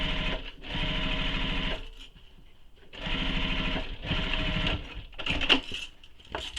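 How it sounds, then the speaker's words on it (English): A sewing machine runs in two long bursts with a short pause between, stitching up the side seam of a handmade Danbury tote bag, close and loud, followed by a shorter run of stitching. "I'm going to sew up the side"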